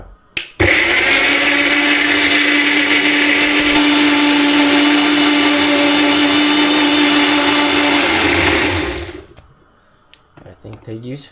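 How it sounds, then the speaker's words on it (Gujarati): Kitchen mixer grinder dry-grinding tomatoes with ginger and no water for palak paneer, a loud continuous whine running for about eight seconds before winding down, with a few small clicks and handling sounds afterward. "આપણે આનું ડ્રાય મિક્સર કરી લઈએ"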